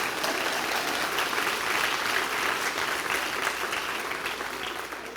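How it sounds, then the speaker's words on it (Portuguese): A church congregation applauding in a steady, dense wash of clapping that fills the room evenly and fades slightly at the end. "é para aplaudir de pé, igreja."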